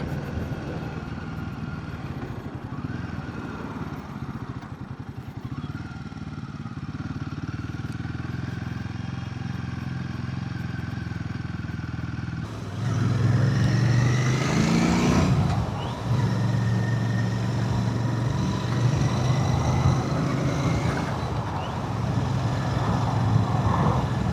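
A Royal Enfield Bear 650 motorcycle engine on a test ride, a steady droning hum that grows louder and rougher partway through, with rising and falling revs and wind rush, heard alone without talk.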